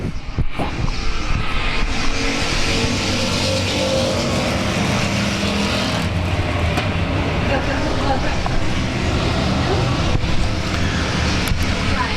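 Race cars at South Texas Speedway roar steadily in a dense, continuous engine drone from start to finish, with a commentator's voice running over the noise.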